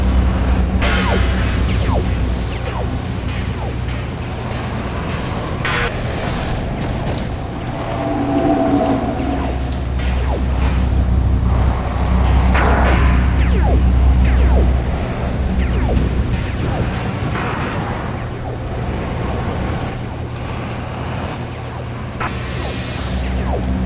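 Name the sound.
laser firing with rising pitch in the video game Sylph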